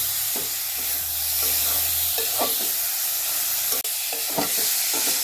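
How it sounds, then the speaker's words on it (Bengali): Chopped garlic and onion fry in hot oil in a pan, giving a steady, close sizzle with scattered clicks and scrapes of stirring. "একটু দিয়ে দিলাম রসুন পেঁয়াজ ভাইজা"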